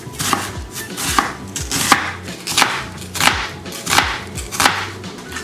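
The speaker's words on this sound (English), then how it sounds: "Finally, the onion. This is my least favorite part about chopping vegetables because I always cry." Knife chopping an onion on a cutting board, crisp evenly spaced thuds at a steady rhythm, about eight cuts in five seconds, close and clear with no talking.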